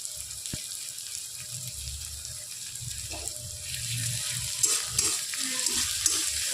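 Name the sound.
sliced onion and grated ginger frying in oil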